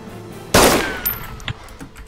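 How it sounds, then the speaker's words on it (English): Gunshots in DayZ: one loud close blast rings out and decays, followed by a couple of fainter, sharper reports a moment later. "That was me shooting, finishing him off."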